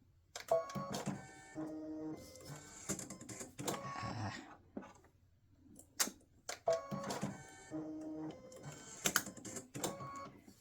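Embroidery machine stitching a bow design, bursts of rapid mechanical needle chatter and whirring motor separated by short pauses, repeating in a similar pattern, close and fairly quiet.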